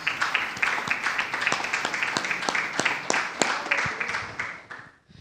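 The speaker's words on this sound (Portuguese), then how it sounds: "Palmas." A church congregation claps steadily for about five seconds, many hands blending into a dense patter that thins out and stops at the end.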